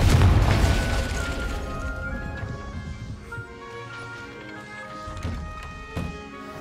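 A Confringo spell explosion in the game Hogwarts Legacy, a loud booming burst at the start that decays into a ringing, tonal tail with faint scattered thuds and pops afterward.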